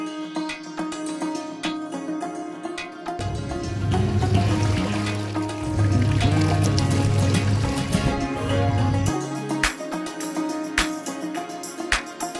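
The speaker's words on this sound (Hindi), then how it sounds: "ये जो पर्दे हैं इन सभी को मशीन में डाल के मैं धो दूँगी।" A washing machine fills with water for a load of clothes and curtains, a steady rushing flow in the middle section with clatter and household noise around it. No one speaks.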